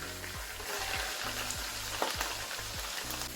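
Spices mixed with yogurt frying in a pan give a continuous close sizzle and crackle, with a repeating mechanical hum pulsing underneath and no speech.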